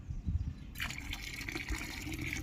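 Hypo bleaching water poured from a tea glass into a bucket makes a short, close gush of liquid that starts abruptly and continues as a steady splashing fill.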